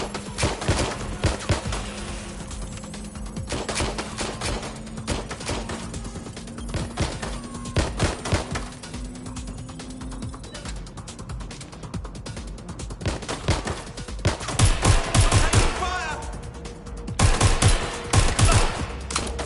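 Sustained video game gunfire from an online shooter: dense bursts of automatic fire and scattered single shots overlap throughout, loud and close, with heavier volleys toward the end.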